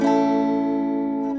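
A single F bar chord is strummed once on a guitar and rings out, sustaining evenly as it slowly fades.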